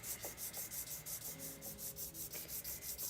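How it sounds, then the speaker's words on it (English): Steady rhythmic rubbing of 1000 grit sandpaper over a finish, each back-and-forth stroke repeating evenly at close range, quiet and without voices. "you start picking up the little sand particles from the 400 in your 1000 grit sandpaper"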